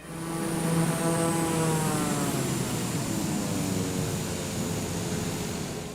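Simulated airplane engine from Microsoft Flight Simulator 2020, a steady loud propeller drone with harmonic tones slowly sliding downward, holding continuously with no talk.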